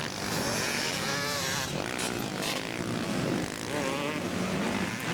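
Motocross motorcycle racing around a track through S-turns, its engine droning steadily with rising and falling pitch as the rider hesitates on the throttle, fairly distant and continuous.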